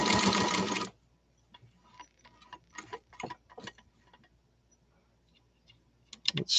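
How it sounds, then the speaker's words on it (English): A 1952 Singer 301 sewing machine stitching through six layers of denim, running in a steady loud whir for about a second, then stopping, followed by faint scattered clicks and handling. "Let's sew to the finish now."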